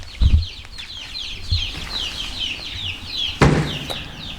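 Young chicks about two months old in a coop with coffee-ground bedding: scattered clucks and chirps over a continuous high peeping chorus, with a couple of short flapping or thumping bursts nearby.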